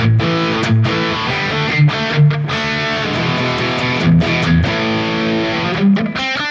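A distorted electric guitar through a Sonicake Matribox 2 modeler chugs through a rhythm part with palm-muted chords and short accented hits, saturated JCM800-style amp tone with light reverb.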